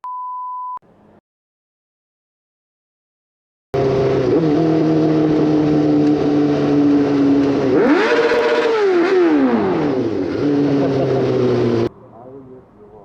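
After a short beep and a moment of silence, a 2004 Suzuki GSX-R motorcycle engine runs loud and close, its revs climbing and falling in sweeping blips before dropping back.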